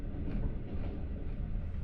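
An overnight passenger train running through Georgia on the Tbilisi to Batumi line, heard from inside as a steady low rumble and hiss of the carriage in motion, with no talk.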